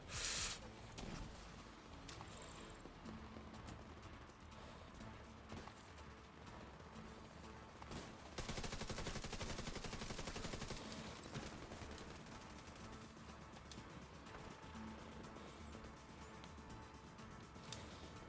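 Automated turret gunfire in The Division 2 during a heroic-difficulty PvE mission, dense continuous bursts of rapid shots layered with game effects and mechanical clatter, loud and sustained with a heavier surge partway through.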